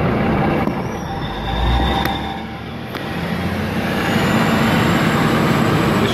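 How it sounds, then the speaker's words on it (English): An Endeavour railcar pulls away from platform 2 at Douglas Park station, its engine rumbling steadily with a few brief high squeals and clicks as it gathers speed. "Here, departing platform number 2, we have an Endeavour in the 11."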